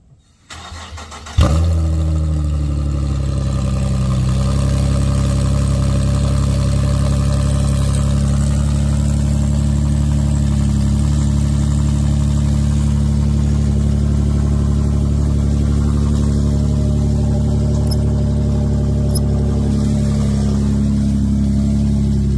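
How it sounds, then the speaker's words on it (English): An Infiniti fitted with only the resonators of an Invidia Gemini catback exhaust cold-starts with a brief crank, then settles into a loud, steady, droning idle that runs on without talking. "let's go ahead and do a cold start with just the resonators from the Invidia Catback installed"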